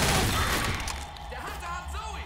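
Burst of gunfire in the zombie shooter game Left 4 Dead, a loud dense volley of shots at the start that decays into scattered rattling, with a voice talking over it.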